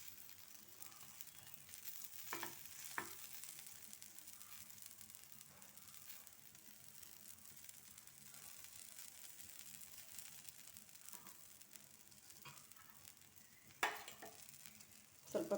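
A stuffed protein paratha cooks on a pan over a medium flame, giving a faint, steady sizzle with soft stirring scrapes and a few brief clinks and taps.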